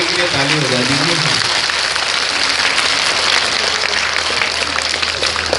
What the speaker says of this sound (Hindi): भैया इनकी अदाकारी के लिए ताली बजा दीजिए